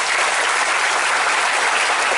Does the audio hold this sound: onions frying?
no